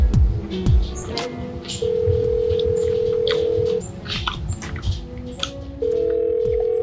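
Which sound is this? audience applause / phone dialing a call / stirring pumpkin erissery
phone dialing a call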